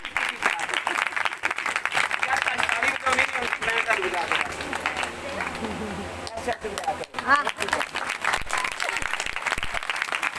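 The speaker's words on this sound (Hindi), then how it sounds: "तालियां बजाओ, ठोके बजाओ" Church congregation clapping in a dense, sustained wash of applause, steady and loud throughout, with voices calling out over it.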